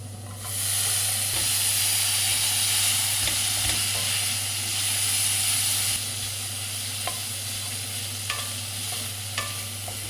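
Tomatoes fry in paneer masala with a steady, loud sizzle and hiss that swells early and holds, broken later by a few soft spoon taps against the pan, with no talking.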